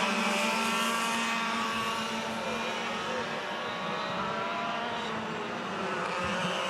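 Senior 100cc Yamaha racing karts roar past on track during a pre-final race, with loud continuous buzzing engines that hold steady and then swell again as more karts pass.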